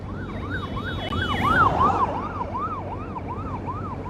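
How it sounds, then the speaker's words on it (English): An ambulance siren wails in a steady up-and-down yelp as it passes a bike race, loud and close with road and motor noise beneath it, swelling at the middle and then easing off. "The ambulance just passed us."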